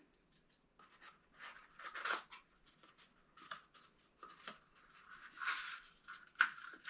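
Scissors snip through material for seed starting pots about 2.5 inches tall, a quiet, close run of crisp cuts and scratchy rustles with irregular rhythm.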